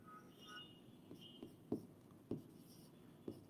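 A teacher writes on the board during a physics lesson, with soft scratching strokes and a few sharper taps as letters are formed. The sound is quiet and close, set against a faint room hum, and no one speaks.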